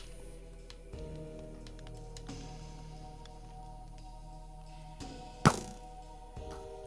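A target block being struck in Minecraft, the video game, gives one sharp, bright impact near the end, standing out above steady low game background hum.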